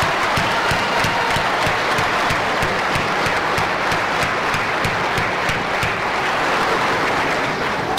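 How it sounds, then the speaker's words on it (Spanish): Sustained audience applause at a ceremony honoring migrant workers in Milpa Alta, a steady loud crowd of clapping with audible rhythmic claps throughout and faint cheering mixed in, lasting the full eight seconds. "Por eso les pido a ustedes un aplauso para ustedes,"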